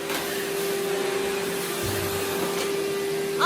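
Household vacuum cleaner running steadily indoors, a constant whining motor drone with a clear tonal hum, loud and continuous, with a brief squeak near the end.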